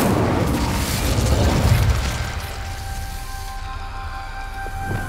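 A fire spell cast in Hogwarts Legacy, a loud whooshing, crackling burst that swells over the first couple of seconds and then fades into a quieter lingering hiss and hum.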